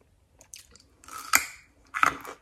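Crunchy, close-up bites and chewing of a raw homegrown carrot: a few sharp crunches over soft chewing, with no talking.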